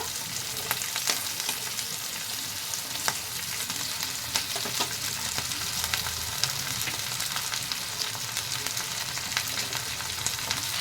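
Carrot, flat beans, eggplant and beans fry in a home kitchen pan with a steady, even sizzle, punctuated by sharp clicks and scrapes as the vegetables are stirred.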